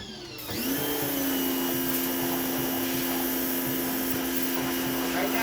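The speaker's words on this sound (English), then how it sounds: "In here doing some power washing." A pressure washer cleans the engine bay of a 4x4 Camaro, starting up within the first second into a loud, steady motor whine and spray hiss that continues unbroken to the end, with no talk.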